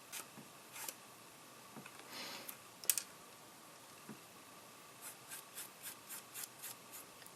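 A paintbrush weathers a model boxcar with quiet, dry bristle strokes, scattered at first and then falling into a soft, regular back-and-forth rhythm near the end.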